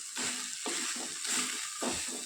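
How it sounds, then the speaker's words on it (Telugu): Cooked rice being tossed into a coriander tempering in a pan, a soft frying crackle with repeated scraping strokes of a spatula, close up, with nobody speaking. "అన్నానికి ఇవంతా కూడా బాగా పట్టేటట్లు బాగా కలుపుకోవాలి"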